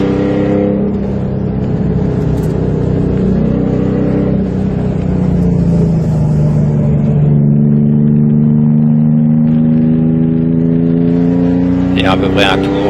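A race car engine on a circuit during a relaxed warm-up lap at Mirabel, with cold tyres and brakes, droning loud and steady at moderate revs and slowly climbing in pitch, close to the microphone.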